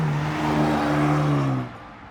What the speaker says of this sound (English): The car's exhaust roars each time you accelerate, and it makes a loud grunt each time you shift.